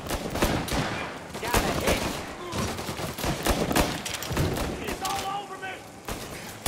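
Sustained gunfire from a Mafia: Definitive Edition shootout, sharp repeated shots and bursts in quick succession, loud and close, with voices talking over the fight.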